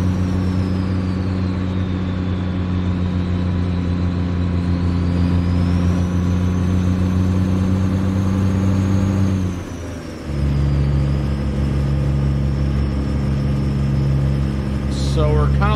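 A truck engine in American Truck Simulator drones loudly and steadily with a deep harmonic hum, dipping briefly mid-way as if shifting gear before the steady roar resumes, with speech underneath.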